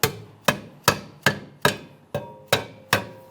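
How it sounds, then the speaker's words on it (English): A rubber mallet taps a brake dust shield into place on a 2006-2012 Ford Fusion, eight firm, evenly spaced blows about half a second apart, each with a short ringing decay, close and loud with no talk. "We'll use a rubber mallet. Just go ahead and tap it right down."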